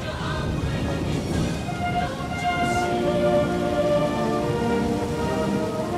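Steady rain falls on the day of the Hong Kong handover, a dense even hiss of drops on surfaces, with faint distant rumbling and a soft musical tone beneath.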